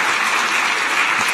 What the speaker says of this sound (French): donc vous pouvez applaudir